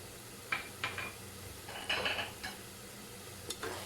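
Cardamom, cinnamon and whole red chilies frying with browned onions for Hyderabadi mutton masala, a soft steady sizzle close by, with a few light clinks and scrapes of a spoon against the pan.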